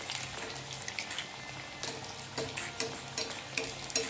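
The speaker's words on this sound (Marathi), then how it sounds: "थोडंसं याच्यावर असं तेल घातलं की व्यवस्थित फ्राय होऊन जातं।" Dal vada deep-frying in oil over medium heat gives a soft, steady sizzle with scattered small pops and crackles, fairly quiet and close, with no talking.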